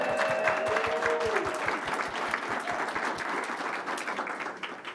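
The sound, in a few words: audience applause at agriculture conference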